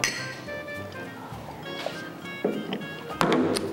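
Glasses clink together in a toast, with a couple of bright, short chinks near the end over a quiet room murmur.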